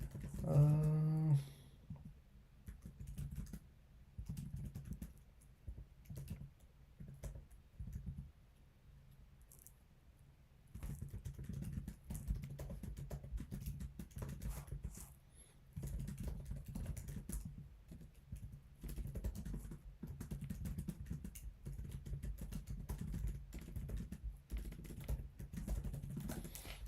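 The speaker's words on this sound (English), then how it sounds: "what am I furiously typing?" Rapid, busy typing on a computer keyboard, clattering steadily and close by, with a brief pause partway through before the keystrokes resume.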